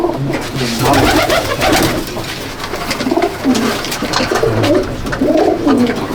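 Pigeons in a loft at Jangipur, Murshidabad, coo loudly and close by in continuous, overlapping throaty calls.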